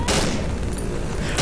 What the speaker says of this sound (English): Now I have a shotgun.